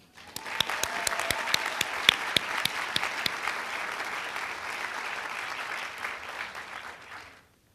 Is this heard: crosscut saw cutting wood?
no